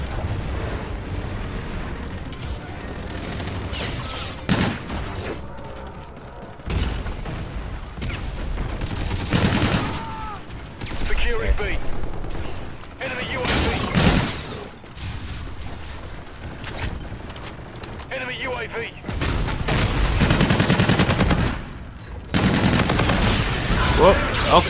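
Rapid bursts of gunfire and explosive impacts from the video game Call of Duty: Infinite Warfare, loud and dense across most of the stretch with brief lulls between volleys, under occasional talk.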